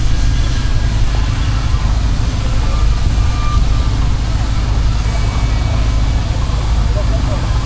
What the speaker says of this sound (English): It's one of their Wellington tractors, this particular size.